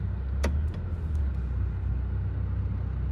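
An aging Toyota Previa van's engine idles as a steady low rumble, with a couple of faint clicks as it is shifted into drive.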